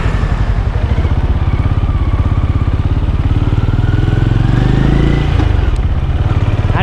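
A Benelli Imperiale 400 BS6 single-cylinder motorcycle idles close by, a steady, even thumping putter with a slight rise in revs near the end.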